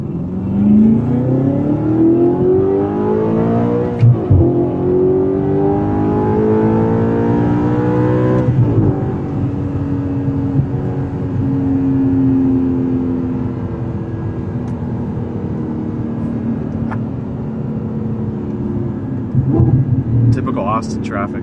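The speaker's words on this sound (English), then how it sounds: "we'll just end this out on a casual drive back to the dealership" Car driving through Austin, Texas traffic on the way back to a dealership: steady engine drone with rising revs as it shifts gear quickly, a continuous close rumble under people talking inside the cabin.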